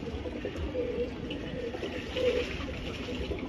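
Pigeons in a loft splash and bathe in a water tray, wet fluttering and dripping mixed with soft cooing, steady and fairly close throughout.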